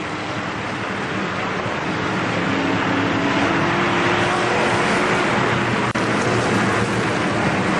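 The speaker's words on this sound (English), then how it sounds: "We're racing this time with the Pure Stock." Pure Stock race cars racing at Kil-Kare Speedway, a continuous loud roar of engines and track noise with a rising engine tone sweeping through the middle, no voices over it.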